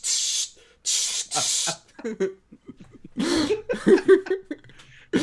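Someone mimics the spray of a spray tan with short hissing bursts from the mouth, followed by coughing and throat-clearing sounds in close, dry surroundings.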